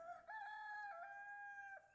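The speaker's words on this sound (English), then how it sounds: "a chicken just said chicken sounds" A rooster crows in the Lords & Villeins video game, one clear drawn-out cock-a-doodle-doo lasting under two seconds, faint and alone with no talk.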